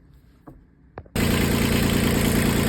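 A marine engine on a Gemini 105mc catamaran cranks after a couple of faint clicks, catches abruptly and settles into a loud, steady idle with a constant rhythmic drone.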